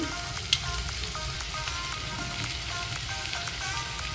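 Chopped onion frying in oil for an egg curry, a steady close hiss and crackle like light rain with a single sharp tap near the start, no voices.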